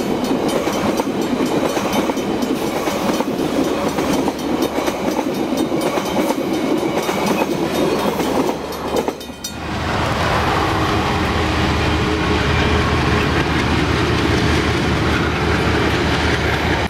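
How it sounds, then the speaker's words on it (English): The TranzAlpine Express passing through the small country town of Dobson, east of Greymouth: a loud, steady rush of rolling carriages and clattering wheels that abruptly shifts to a lower, smoother drone partway through. "We now see the train passing through the small country town of Dobson, which is 10 minutes east of Greymouth."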